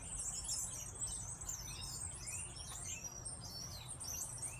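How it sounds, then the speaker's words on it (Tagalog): Small birds chirp and tweet continuously in high, overlapping calls, fairly faint, over a low outdoor rumble with no talking. "Yan o, mga ibon."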